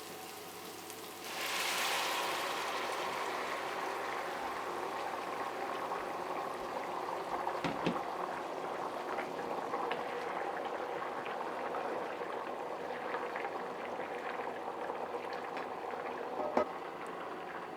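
Hot water poured over food fried in butter and salt sets off a sudden rushing pour, then settles into a soft, continuous bubbling boil with scattered small pops and a few faint clinks.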